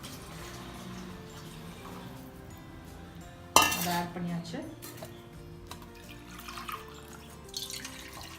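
Reserved water from boiling for mutton biryani splashes and trickles into a measuring cup with a clatter of kitchenware, and someone talks over the pouring.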